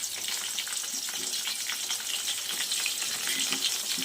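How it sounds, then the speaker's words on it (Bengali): Chopped onion, tomato, bay leaf and whole dried chili fry in hot oil, giving a steady, close sizzle with soft crackling under it and no talk. "এখন পেঁয়াজ আর টমেটো কুচি দিয়েছি তেলের মধ্যে"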